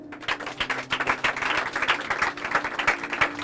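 A church congregation claps together in sustained applause, a dense close spread of hand claps with steady rhythm and no talking.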